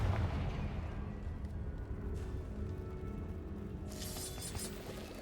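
A Confringo fire spell bursting in Hogwarts Legacy, a deep rumbling blast that sustains, then a bright crackling flare toward the end, loud and close with no talk.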